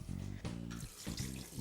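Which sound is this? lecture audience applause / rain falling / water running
water running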